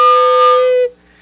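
A recorder sounds one steady, close note with its finger holes not fully covered, held for under a second before stopping abruptly.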